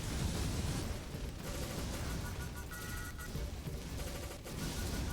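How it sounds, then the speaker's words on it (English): Dense, continuous volleys of explosions in the video game Picayune Dreams, with blasts stacking into an unbroken roar of crackling booms and gunfire-like bursts that stays loud throughout. "Not that I'm lacking in explosions, I'm just blowing everything up."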